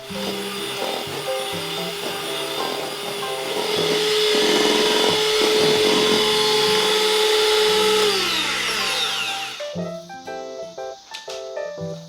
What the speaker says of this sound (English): We are now going to be adding the sugar into it and mixing it until it is white and creamy.